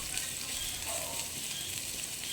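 Vegetables for lumpiang gulay, with onion among them, frying in a pan, giving a dense, even hiss of sizzling oil that holds steady throughout at a moderate level.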